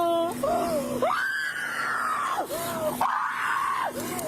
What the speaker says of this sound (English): She's screaming like that.